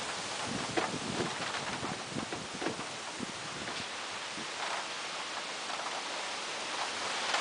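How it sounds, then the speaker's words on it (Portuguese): Strong storm wind in Sertãozinho roars steadily with gusty rushes and rustling, loud and broadband throughout, no talking. "Olha a força do vento."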